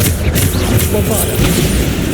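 Bombarda spell blasts in Hogwarts Legacy, a dense run of loud booming explosions and crashes packed close together over game noise, with spells cast in quick succession.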